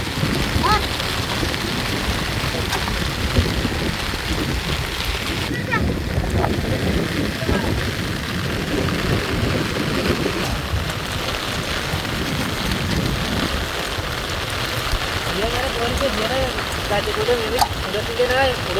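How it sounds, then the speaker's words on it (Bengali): Steady rain pours down during a fishing trip on a river char, a constant close hiss of drops on surfaces with occasional voices talking underneath. "বৃষ্টিও আরম্ভ হয়ে গিয়েছে দেখতে পাচ্ছেন"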